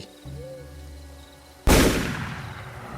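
A single sharp, loud hunting rifle shot bursts out after a quiet low ambient stretch with a faint hooting call, then trails off in a long echoing decay.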